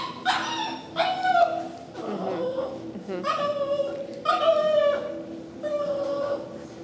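A dog with separation anxiety barks in a string of sharp, fairly close barks and high whimpers, over a low steady hum; a person talks quietly underneath.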